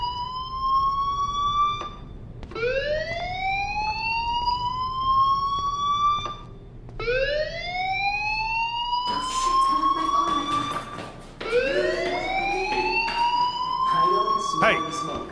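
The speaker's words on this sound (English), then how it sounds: "Hey, do you hear that fire alarm?" A rising, wailing fire alarm repeats in long sweeping cycles inside the video game Life Is Strange, loud and close, with a voice speaking partway through.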